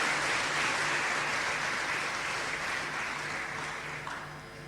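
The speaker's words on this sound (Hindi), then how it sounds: "जोरदार तालियों से अपने मुख्यमंत्री साहब का स्वागत करें और जोरदार तालियां होनी चाहिए" Sustained applause from an audience in a hall, welcoming the chief minister at a government welfare-week programme in Bhopal, Madhya Pradesh; dense steady clapping that stays loud throughout and tapers slightly near the end.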